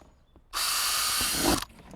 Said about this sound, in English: just drill some holes in the side for